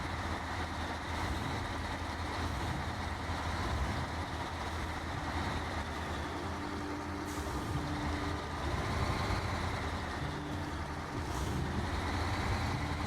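A heavy off-road truck hauling a trailer through a tight turn in the Snowrunner video game, with steady engine rumble and drivetrain noise continuing throughout.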